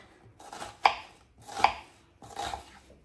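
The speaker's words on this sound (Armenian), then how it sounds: "այստեղ սոխն եմ կտրատում ու սոխարած պետք է անենք" Onions being finely chopped with a knife on a board, three separate thuds spaced about a second apart, close and fairly quiet, with no talking.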